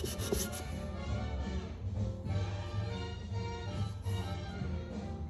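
A vintage AMAL 375 Monobloc carburettor face from a 1961 Royal Enfield Bullet is rubbed back and forth on 400 grit paper, giving a steady, close, rasping scrape in repeated strokes with no talk.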